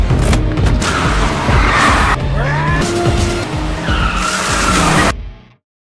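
Cars chasing each other through a parking garage, tires squealing in long skids with swooping pitch over roaring engines, loud and close, ending in an abrupt cutoff to silence.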